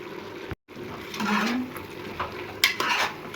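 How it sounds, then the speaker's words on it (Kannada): Chopped capsicum frying in oil in a pan for a simple pulao, with a soft steady sizzle and scraping stirs of a spoon, one sharper knock near the end. "ಈಗ ಇದಕ್ಕೆ ಒಂದು ಕ್ಯಾಪ್ಸಿಕಮ್ ಕಟ್ ಮಾಡ್ಕೊಂಡಿದ್ದೀನಿ. ಈಗ ಇದನ್ನು ಫ್ರೈ ಮಾಡ್ಕೊಳ್ಳೋಣ."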